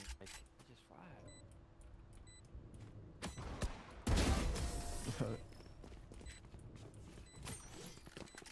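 Gunfire in the Valorant video game, brief bursts of shots with one louder volley in the middle, mixed with game mechanics and footsteps while a player talks over it.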